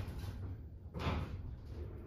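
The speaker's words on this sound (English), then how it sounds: "Doors closing. Please mind the doors." Doors of a Toshiba machine-room-less traction lift in an apartment building slide shut with a brief soft thud midway, over steady car hum and a high electronic whine.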